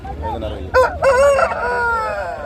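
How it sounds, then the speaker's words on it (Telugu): A rooster at the Gudur poultry market crows once loudly and close, a rising harmonic call that holds and fades, with market murmur and faint voices beneath. "సో పుంజు చాలా బాగుందండి"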